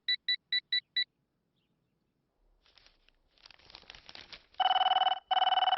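A telephone rings with a burst of five quick electronic trills, then after a pause noisy rustling rises into a loud sustained tone broken by a brief gap.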